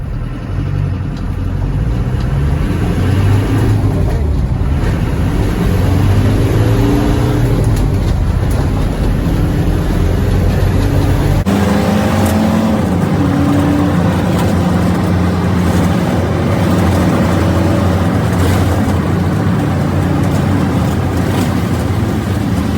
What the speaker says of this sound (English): this is the 200 TDI 4-cylinder turbo diesel